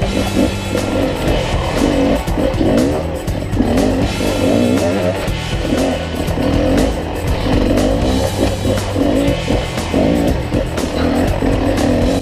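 Enduro dirt bike climbing a steep face in second gear, engine held at steady high revs with the clutch slipped, loud and continuous throughout.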